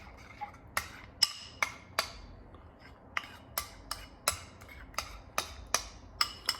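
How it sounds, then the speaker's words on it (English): Steady rhythmic tapping, sharp light clicks roughly every half second, like a utensil knocking on a hard dish while mixing barbacoa steak taco filling, close and clear with no talking. "Sorry about the tapping noise."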